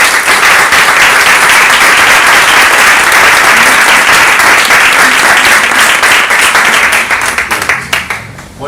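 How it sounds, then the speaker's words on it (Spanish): A conference audience gives a loud, sustained round of applause to welcome a speaker to a personal leadership talk, with dense clapping filling the room before it thins out and fades at the end. "Recibamos con un gran aplauso a Daniel Abajo."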